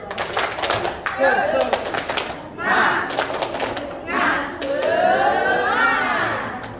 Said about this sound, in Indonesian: Oke, yuk kita tepuk semangat dulu yuk